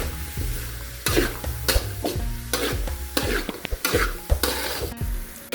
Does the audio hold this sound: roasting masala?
yes